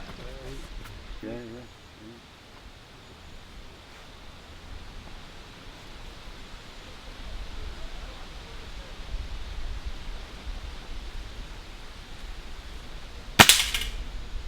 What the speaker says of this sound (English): Cracking shot, man.